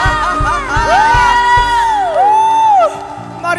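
A church congregation cheers and shouts for joy during a worship service: loud whooping voices and a long rising and falling vocal cry over steady low thumps, then a slight drop.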